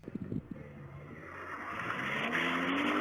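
A car drives past at moderate distance, its engine note swelling steadily as it approaches, preceded by a few brief knocks, with no voices present.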